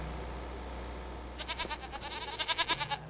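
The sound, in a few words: goats bleating in a video game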